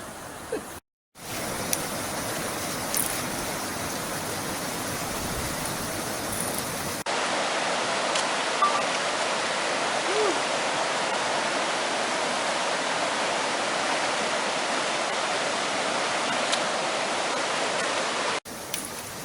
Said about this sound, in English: We got to do this creek crossing here that we was unable to do, and it looks like the water may be a little lower